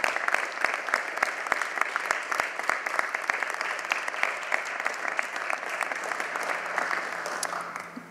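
Steady, dense round of applause from an audience at a 2017 Veterans Day event, sustained throughout with sharp individual claps standing out near the front.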